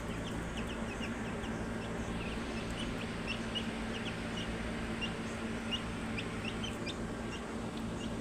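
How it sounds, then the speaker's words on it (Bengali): Chicks of a large hill chicken breed keep up soft, high clucks and peeps at a distance, scattered over a steady low background hum. "এটাই হচ্ছে পাহাড়ি মুরগি এটাই পাহাড়ি মুরগি"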